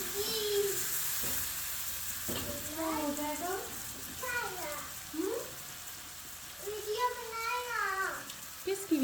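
Onions browned with salt, turmeric, chili powder and ginger-garlic paste sizzle steadily in a home kitchen pan for kadhi pakora, with a voice chattering over the frying throughout.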